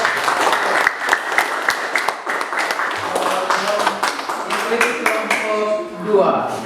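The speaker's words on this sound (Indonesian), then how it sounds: "Tepuk tangan untuk kelompok." A classroom of Grade VII students in a Catholic religious education lesson claps for a student group, a dense run of hand claps lasting several seconds with voices chattering over the rising and thinning applause.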